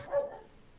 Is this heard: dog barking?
yes